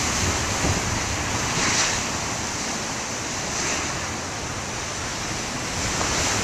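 Big ocean waves roll onto a beach in a continuous, loud wash of surf, mixed with heavy wind buffeting the microphone, with broad swells of intensity and no voices.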